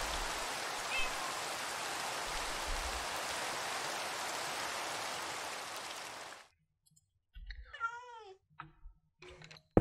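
Steady rain in Minecraft hisses evenly for about six seconds, then stops abruptly, and a cat's meows and a few soft game sounds follow in the quiet.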